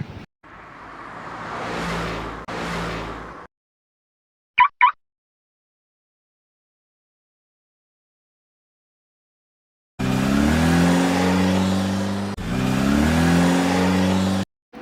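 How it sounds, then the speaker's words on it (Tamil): A Porsche luxury race car at a Mumbai retro car exhibition revs in two loud, close bursts. A long silence broken by a couple of faint clicks separates the first burst from a second, sustained engine roar. "பின்னாடி திரும்பி பார்த்தா இன்னொரு போர்ஷ் கார் ஓடுது"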